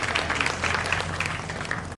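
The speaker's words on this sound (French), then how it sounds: "je voudrais vous saluer et vous demander de vous applaudir fortement pour marquer votre adhésion à cette activité" An audience applauds at a ceremony handing over eight ambulances in Agboville. The applause is steady and dense, many hands clapping together at a close, even level throughout, with no pause until a brief dip at the very end.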